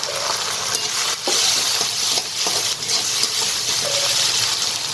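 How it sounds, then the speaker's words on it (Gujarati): Chopped tomatoes hit a hot pan for a street-style pasta and sizzle loudly and steadily throughout, with a few brief stirring scrapes breaking the hiss. "હવે 2 મોટા ટમેટા મેં ઝીણા કાપી લીધા છે, એ આપણે નાખીશું"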